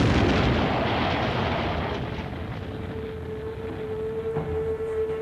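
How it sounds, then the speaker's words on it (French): A car bomb hidden in a Volkswagen parked on the roadside goes off as an explosion sound effect, a deep roaring blast that rumbles on and slowly fades, followed by a faint lingering tone, with no talking. "Un détonateur télécommandé déclenche l'explosion."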